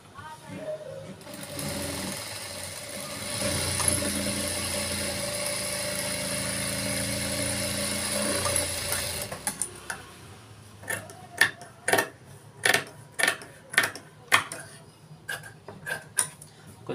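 An electric sewing machine stitching a boat neck blouse runs in a steady, fast whirring stretch. It then gives a series of short, separate bursts of stitching, recorded close in a quiet room.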